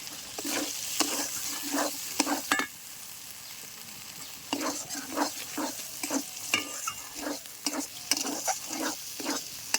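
Boiled potatoes frying in spice masala for shahi paneer, with a constant sizzle under repeated rhythmic scrapes and clinks of a spoon stirring the pan, close and clear, pausing briefly midway.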